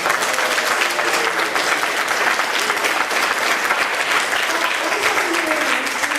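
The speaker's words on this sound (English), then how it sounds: "can we have a big cheer for our games makers who are here today?" A room full of people at a volunteer centre AGM applauds and cheers London 2012 Olympic Games Makers volunteers, with dense, steady clapping and some raised voices sustained at full strength throughout.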